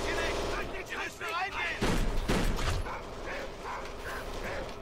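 Dogs barking in the video game Kane & Lynch 2: Dog Days amid gunfire and game noise, with a player talking over the action.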